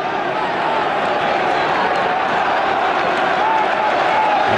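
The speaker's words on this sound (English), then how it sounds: "And applause for Nigel Winterburn as the doughty fullback goes across to take this." Football stadium crowd at a 1998 Premier League match between Arsenal and Manchester United, applauding fullback Nigel Winterburn; a broad, distant roar of clapping and crowd noise, steady throughout.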